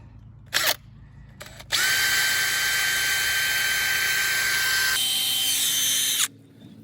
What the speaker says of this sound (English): I now need to drill a hole where we're going to poke this back down